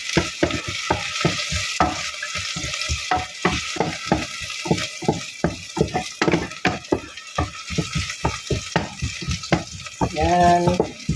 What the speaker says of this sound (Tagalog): Ayan po, gisa-gisa na natin yung lutuin natin.